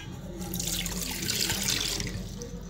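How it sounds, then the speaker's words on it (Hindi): Water poured into a saucepan to make kahwa, a steady, close splashing pour that runs without a break and has no talk over it. "उसके अंदर मैं ये पानी ऐड करूँगी"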